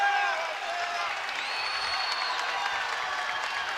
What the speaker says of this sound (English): The crowd gets louder and louder here at the Bob Devaney Sports Center.